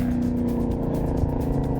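Holden Commodore with a 383 cubic inch stroker LS1 V8, Eagle 4-inch crank, Eagle rods and 10.8:1 pistons, accelerating hard with a steady loud engine drone rising in pitch, close and continuous, no talking.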